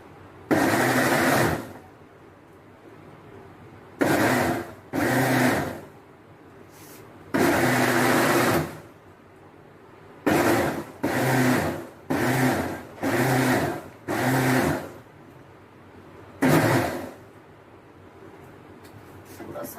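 Mixer grinder blending apple and beetroot into a smoothie, loud close bursts of motor whir switched on and off repeatedly, each pulse lasting one to two seconds with short pauses between.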